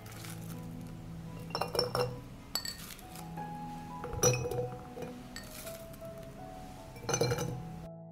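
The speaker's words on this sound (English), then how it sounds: "I put onions in jars." Glass jars clink repeatedly as onions are packed into them, with several sharp, close chinks spaced across the stretch and quiet handling in between, no talking.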